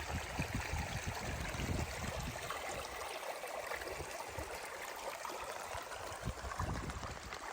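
A desert creek, Salt Creek, runs through dry canyon country, giving a steady, even rush of flowing water with low rumbles and a soft trickle, continuous throughout with no voices.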